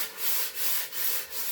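An old photo frame being gently rubbed, four even back-and-forth abrasive strokes in a steady rhythm, close and fairly loud with no voices.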